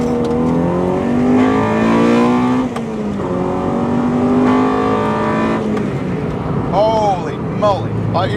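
A 1.8-litre Honda Integra Type R DC2 revs hard as it accelerates, its engine note climbing through the gears in loud, sustained pulls with brief drops between shifts, and voices speak over it.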